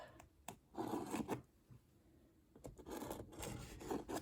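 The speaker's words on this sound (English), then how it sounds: "you're going to take a marker or pen of some sort and you're going to trace around the cup" Marker tip scratching and rubbing around the bottom of a cup in short strokes, a soft raspy scraping that comes in two bursts with a pause between.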